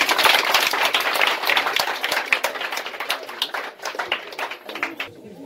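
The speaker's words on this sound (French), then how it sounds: "On applaudit." Scattered clapping from a small gathering at a political party ceremony for a new official, crisp close claps that thin out toward the end, with faint voices underneath.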